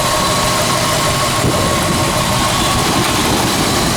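A 1968 Ford Mustang's 289 V8 with a two-barrel carburetor idles smoothly and steadily, a close, even engine rumble running alone throughout with no voices.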